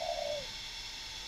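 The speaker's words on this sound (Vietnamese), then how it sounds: "đây là tiếng này, tiếng rục đẻ" A short, clear coo from a caged breeding spotted dove giving its nesting call sounds once near the start. A steady hiss of background noise follows and continues after the call ends.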